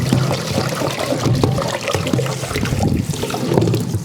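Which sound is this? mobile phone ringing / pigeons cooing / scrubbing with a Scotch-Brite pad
scrubbing with a Scotch-Brite pad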